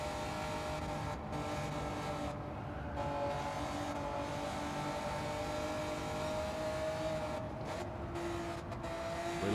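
Honda NSX Type R race car in Gran Turismo 7, engine droning steadily at high revs with brief lifts and gear changes, worn rear tyres faintly squealing, no talking.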